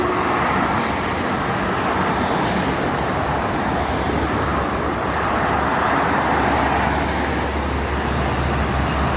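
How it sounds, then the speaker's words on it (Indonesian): Continuous roar of heavy traffic dominated by large freight trucks on the Jakarta-Cikampek toll road, a steady low rumble and tyre hiss with no breaks, loud and close. "pagi ini didominasi oleh kendaraan truk angkutan barang yang truk besar"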